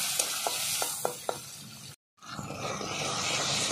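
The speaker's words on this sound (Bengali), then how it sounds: "কালো জিরে ফোড়ন দেব, ছোট ছোট দুটো টমেটো কুচি তেলের পরে দিয়ে দেব।" Chopped tomatoes hit hot oil with nigella seeds and a bay leaf, bursting into loud, steady sizzling with a few ladle taps before a short break, then the frying sizzle carries on at full strength.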